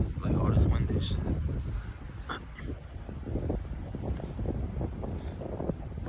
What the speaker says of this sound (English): Like all this wind and shit.